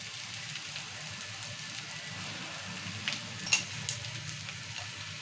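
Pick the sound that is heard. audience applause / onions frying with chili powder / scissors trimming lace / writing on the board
onions frying with chili powder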